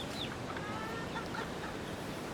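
Several chickens cluck and chirp softly at a distance, scattered short calls over a steady outdoor background hiss.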